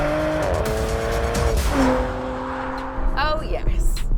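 Porsche Macan GTS accelerating hard with tires squealing, loud engine revving through rising gear pulls and a shift, close and continuous with excited voices over it.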